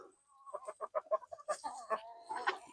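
Farm chickens clucking close by in a quick, uneven run of short clucks and squawks that continues for a few seconds.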